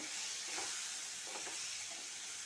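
Gram flour balls for gassi curry fry in hot oil with a steady, soft bubbling hiss that holds evenly throughout, faint and close with no voices over it.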